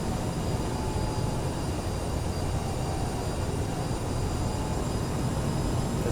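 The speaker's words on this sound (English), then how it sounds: "This is a fun plane to hand fly." A regional airliner cruises in Microsoft Flight Simulator 2020, giving a steady, even engine and airflow roar that holds at one moderate level throughout, with no voices.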